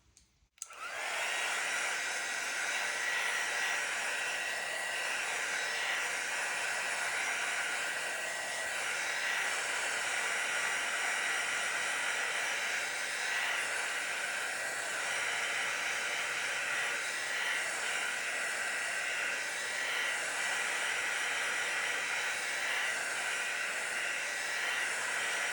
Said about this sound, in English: Just hit it with a heat embossing tool.